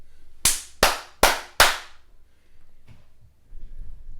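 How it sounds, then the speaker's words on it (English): Four sharp, evenly spaced hand claps ring out close and loud one after another, followed by quiet low rustling. "You can do the 3 claps."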